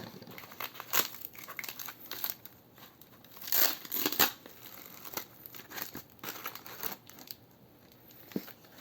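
Plastic parcel package holding a 12-volt e-bike relay being torn and opened up close, with crinkling, tearing and rustling in irregular bursts, and no talk.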